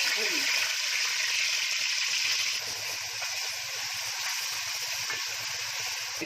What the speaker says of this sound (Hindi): वो गिरवी का मसाला जा रहा है तेल में